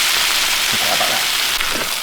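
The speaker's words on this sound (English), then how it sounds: "So get a nice sear on both sides," Steak sears in a hot pan with a loud, dense, steady sizzle close by, a few soft clinks and stirs of movement breaking through.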